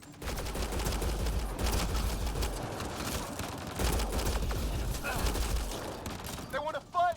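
Gunfire in Mass Effect: Andromeda crackles in rapid volleys that come in two heavy surges with sharp shots between them. Voices can be heard under and around the shooting.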